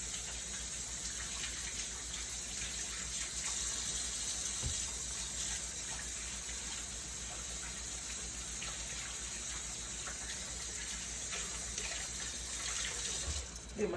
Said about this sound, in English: I'm going to get these hands washed off, y'all.